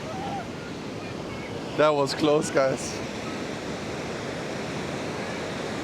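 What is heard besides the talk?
strong ocean waves breaking on Da Nang beach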